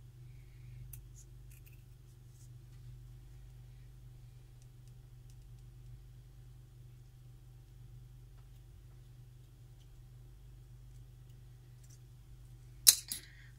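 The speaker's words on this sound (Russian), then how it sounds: "Обрезаю вот эту ненужную нам часть." Scissors trim away an unneeded part of a petal for a snowflake craft. A low steady hum runs throughout, then one sharp, close snip lands right at the end.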